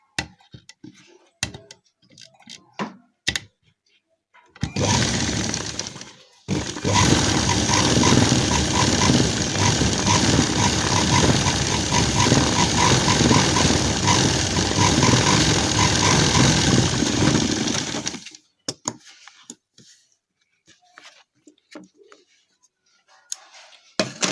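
A sewing machine stitches Gharara fabric in one long, steady, whirring run of about thirteen seconds, with quiet cloth handling and small clicks before and after.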